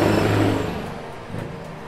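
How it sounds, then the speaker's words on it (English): Fast cars roar past in city traffic as a loud engine swell that fades away, followed by a fainter second pass. "The cars are so fast. So many noises."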